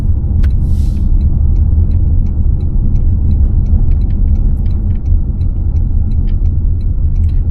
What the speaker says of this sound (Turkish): Eko modda bile gaza basınca araba ben gitmeyeceğim demiyor.